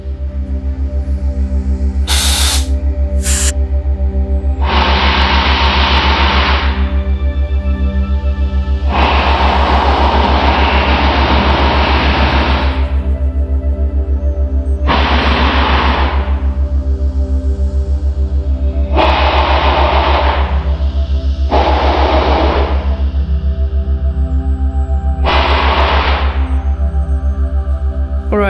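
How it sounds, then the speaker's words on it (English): An air compressor blowing dust out of another compressor: a constant loud low motor hum throughout, with repeated hissing bursts of blown air lasting a couple of seconds each, plus two short sharp blasts near the start. "So I'm gonna clean the compressor with another compressor, blow the dust out, suck it up with the vacuum cleaner"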